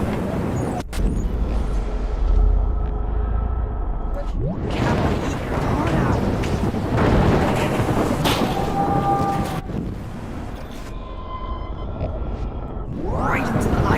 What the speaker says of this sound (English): Right into the eye of the storm.